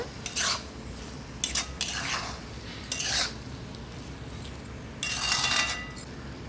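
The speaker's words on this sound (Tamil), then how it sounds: "சால்ட்டும் ஆட் பண்ணிக்கோங்க கூடவே. நல்லா மிக்ஸ் பண்ணிடுங்க." Chicken sukka being mixed with oil and salt in a pan: a spoon scrapes and stirs in several separate bursts, with clinks of metal against the pan, fairly close and with no talking.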